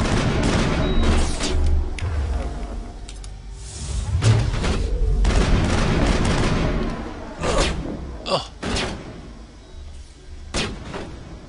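Gunfire in a firefight in the video game Mass Effect: loud bursts of shots and booming impacts in dense clusters, with brief lulls and sharp bangs near the end.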